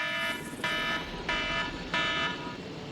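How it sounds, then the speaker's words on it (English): Repeating electronic alarm from the video game Jurassic World Evolution, four evenly spaced tonal buzzer bursts sounding loud and close over a steady background hum. "My alarm going off."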